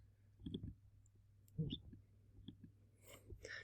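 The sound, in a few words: mouse click on a button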